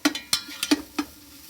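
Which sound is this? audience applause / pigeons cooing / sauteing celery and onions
sauteing celery and onions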